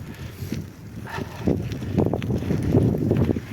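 A headwind rushes against a cyclist riding a bike path, a close, rough low buffeting that swells and gusts over a few seconds.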